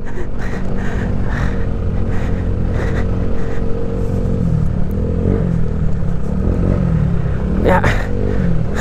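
Motorcycle engine labouring along a rough, rocky mountain road on the way to Puerto Galera in Mindoro, a steady loud rumble with rattling clatter throughout, louder toward the end, with a person talking over it.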